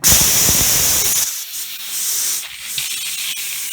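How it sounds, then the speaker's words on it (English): Compressed air from an air hose rushes into a tire on a COATS RC45 tire changer to seat the beads: a loud, close, steady hiss for over a second, then a softer continuing hiss of air with faint clunks. "Go ahead and get your air hose, push that thing in."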